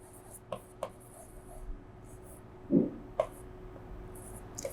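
A pen scratches out short strokes on paper, soft and close, in a few separate scribbles over a quiet electrical hum while someone works through a cash flow statement.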